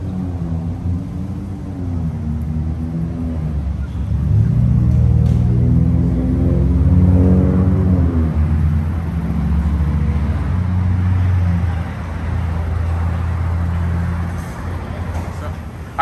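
A Harley-Davidson with a 131 engine and D&D billet cat exhaust rumbles at idle, then revs up into a loud, deep roar and settles back, all close by with people talking over it.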